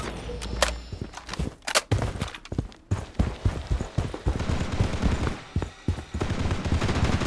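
Rapid gunfire in the mobile shooter Project: BloodStrike, close and loud, with a few sharp early shots followed by a dense, steady stream of rattling automatic fire.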